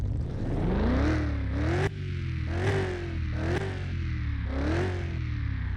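A BMW car engine in a driving video game revs up repeatedly, each rise climbing in pitch before a sharp gear-change drop, four or five pulls in quick succession, loud and close.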